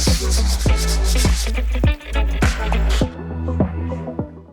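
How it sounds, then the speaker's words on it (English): A scraper rasps across a painted ceiling to knock back high spots, giving repeated broad scratchy strokes at a steady rhythm, close and fairly loud, with no talking. "I've just been going over it with a scraper, try and knock back any of the high spots"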